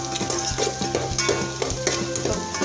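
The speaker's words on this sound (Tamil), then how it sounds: "பட்டரில் பூண்டு வெந்துச்சுன்னா அவ்வளோ டேஸ்ட்டாக அவ்வளோ அரோமா நமக்கு கிடைக்கும்" Garlic cooking in butter in a pan, a low sizzle under a series of close, regular scraping stirs, roughly two strokes a second.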